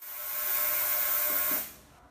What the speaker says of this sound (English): there's ultrasonic sound waves that go through that sound like this.